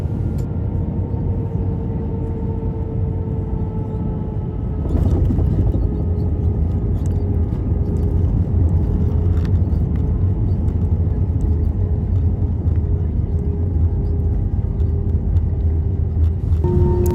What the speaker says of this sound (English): Here we are making our approach and soon landing into Frankfurt.